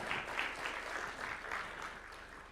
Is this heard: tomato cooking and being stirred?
no